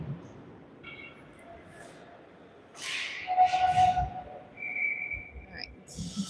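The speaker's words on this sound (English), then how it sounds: "Up and out of play, so we get a whistle." Referee's whistle stopping play during a youth 15U/16U AA ice hockey game in an arena, a sustained shrill tone heard moderately loud over crowd and rink noise, with a second shorter blast following.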